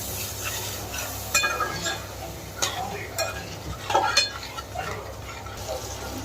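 Tomatoes fry in a pan with soft sizzling underneath intermittent clinks and scrapes of a utensil stirring against metal, close by, for making a fish-and-cabbage cutlet dish.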